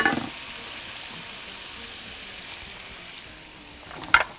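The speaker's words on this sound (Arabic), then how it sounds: "هجيب ال دي كده اسخنها كويس واحط عليها زيت" Oil heating in a hot pan while cooking Cantonese chicken gives a steady, soft, close hiss throughout, with a brief clink near the end.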